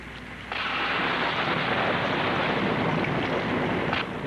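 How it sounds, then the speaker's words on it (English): A staged unnatural thunderstorm sound effect bursts in after a short quiet lead-in, a loud sustained roar of rain and rumble that holds steady for several seconds and then cuts back abruptly near the end. "It's an unnatural storm."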